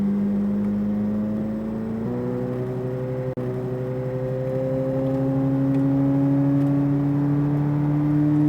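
A Corvette Z06 on a race track at SpeedVegas, its engine droning steadily and climbing in pitch as it accelerates, with a brief shift partway through before the revs keep rising, heard from inside without talk.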